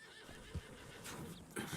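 A horse whinnies faintly with a few soft hoof thuds in Red Dead Redemption 2, quiet and without talk.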